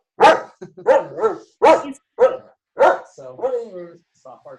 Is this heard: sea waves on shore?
no